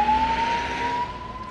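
An ambulance siren on a city street during lockdown in Chandigarh sounds as a steady high tone over road traffic rumble, fairly close and clear, with no talking.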